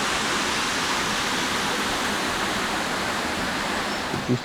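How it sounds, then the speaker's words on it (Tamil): Amrita Falls waterfall in Kerala roars as a dense, steady rush of falling water, loud and close throughout with no voices. "அது அமிர்தா ஃபால்ஸ்"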